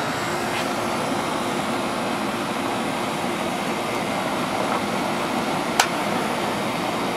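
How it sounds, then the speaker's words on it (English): An AC condenser with a microchannel coil runs its compressor while the fan motor fails to spin, giving a steady close broadband hum with a brief click near the end. "I hear a compressor, but I ain't got no fan"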